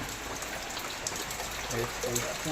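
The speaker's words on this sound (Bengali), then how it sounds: "অনবরত বৃষ্টি হয়ে যাচ্ছে" Continuous rain falling outdoors as a steady, soft wash of hiss, with faint murmur-like tones emerging toward the end.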